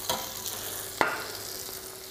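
Vegetables sweating in butter in a frying pan, with a steady sizzle throughout, broken by a few scraping stirs with one sharper clack near the middle, alone without talk.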